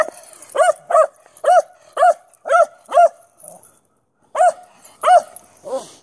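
Two dogs barking in short, sharp bursts during play, about nine loud close barks in a steady rhythm with a brief pause midway, ending in a softer whimper.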